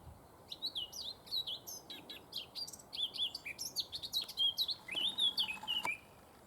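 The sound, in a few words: male blackcap singing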